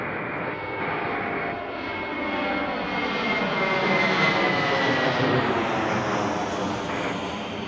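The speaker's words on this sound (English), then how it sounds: "The next one taking off already. Not sure what it is, but it sounds loud." A jet airplane taking off at Washington Reagan National Airport, a loud broadband roar building and swelling as it passes close overhead, then holding steady; no speech.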